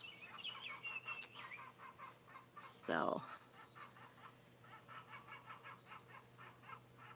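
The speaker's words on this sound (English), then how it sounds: "there's a chicken chewing somebody out." A chicken clucks and squawks in a rural garden, fairly distant, with one louder squawk partway through amid birdsong, while a person talks nearby.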